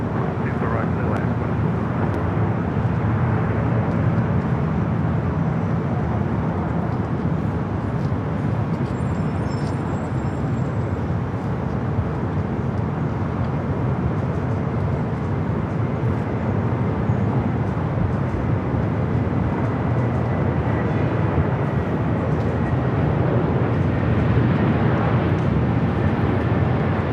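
A jet airliner on approach to land on runway 24 right at LAX roars continuously and steadily, a broad loud rumble holding throughout with faint radio chatter underneath.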